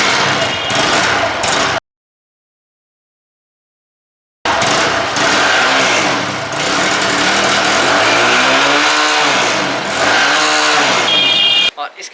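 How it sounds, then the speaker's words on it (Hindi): Bajaj V15 motorcycle engine idling steadily after a start, warming up, with a break of silence partway and someone talking over the engine throughout. "इंजन स्टार्ट हुआ, बटन बंद हुआ कि अभी वार्म अप हुआ।"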